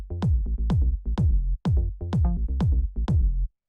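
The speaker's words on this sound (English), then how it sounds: "when you have a bass line like this" A plucky synth bass line from a deep minimal house track bounces in short, punchy notes in a steady repeating rhythm, each with a quick attack and fast decay, loud and alone, ending abruptly in silence.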